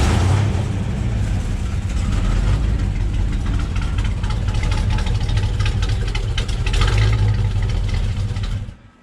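A square-body Chevrolet K5 Blazer with blown-out mufflers idles loud and close, a steady, rough low rumble that holds for about nine seconds before cutting off abruptly.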